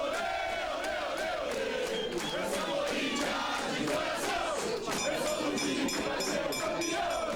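A huge crowd of Corinthians football fans roars and chants continuously, a dense, steady wall of cheering and battle cries with no letup.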